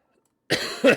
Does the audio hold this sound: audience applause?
no